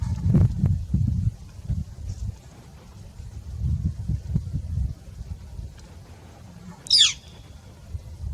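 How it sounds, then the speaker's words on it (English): An unfamiliar wild bird gives a single sharp, high call outdoors, loud and brief against a quiet background of low rumbling and faint sounds. "Never heard that bird before."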